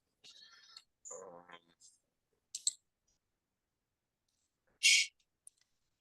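Computer mouse clicks while working in the Unity editor: a few short, sharp clicks come after some brief talk, with silence between them.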